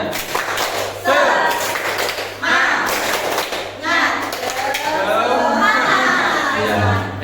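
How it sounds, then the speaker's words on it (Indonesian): A group of adult teachers at a positive-culture training session does a rhythmic clapping chant, bursts of patterned claps with shouted responses, several loud sections separated by short pauses, close and energetic in a reverberant room. "Tepuk semangat."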